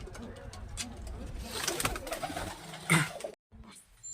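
Pigeons of a Murshidabad racing line coo in soft repeated calls at close range, with some faint background voices, a brief louder knock near the end and a short drop to silence.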